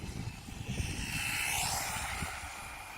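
An Absima AB3.4 RC car held at full throttle on a speed run makes a sustained, high-pitched motor whine that swells and shifts in pitch as it passes, fairly faint and heard from a distance.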